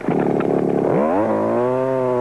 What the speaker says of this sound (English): This Echo is one tough cutting chainsaw